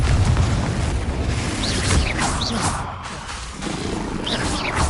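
The Confringo fire spell in the video game Hogwarts Legacy bursts in loud, low, rumbling booms mixed with roaring combat noise and faint whooshing effects, all dense and close throughout.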